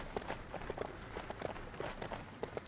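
Horses walking backwards in LEGO Worlds, a soft, quick, uneven patter of hoofbeats that carries on steadily at moderate distance over a constant background hiss.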